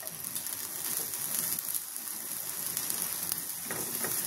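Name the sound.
garlic and onion sautéing in a pan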